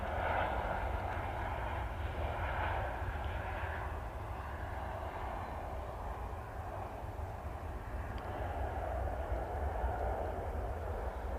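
A Sun Express airliner arriving from Antalya touches down at Liverpool, its engines a steady, broad roar held at constant loudness throughout, with no voices over it.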